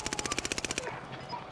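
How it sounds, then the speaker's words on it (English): Rapid automatic gunfire in the Call of Duty Warzone video game: a quick burst of about ten evenly spaced shots that cuts off abruptly, leaving quieter game ambience. "Shots."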